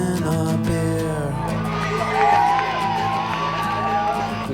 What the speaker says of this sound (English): the crowd is in a frenzy before we even get off the bus